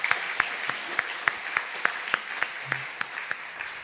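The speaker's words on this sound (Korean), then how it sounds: "하나님께 영광의 박수 올려드리겠습니다" Applause in a church service, the congregation clapping in a slow, regular, unified rhythm of about a dozen distinct beats, each clap crisp and evenly spaced over a soft background wash.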